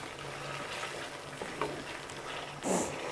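Beef korma frying in a kadhai, a soft continuous sizzle with light stirring scrapes and a louder clatter of the spoon near the end.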